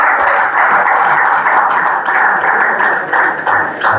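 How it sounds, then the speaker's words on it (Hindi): Sustained applause from an audience at a foundation oath ceremony, dense and continuous, filling the hall evenly for several seconds. "तालियां बजती रहनी चाहिए।"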